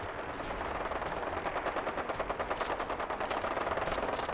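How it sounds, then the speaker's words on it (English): Helicopter machine-gun fire in the video game Fallout 4, a steady rapid burst of gunshots rattling continuously over a background din, fairly distant and without talk. "That's a helicopter shooting at someone now."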